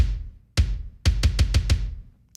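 Layered kick drum from Superior Drummer 3 with a pitched sub kick underneath: one booming hit, then a run of five fast, punchy, deep kicks, loud and dry with short decays, and no voices.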